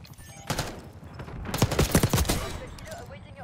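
A burst of rapid gunfire from a Black Ops 6 gunfight, with scattered shots at first and then a dense, fairly close volley that tails off into quieter background noise.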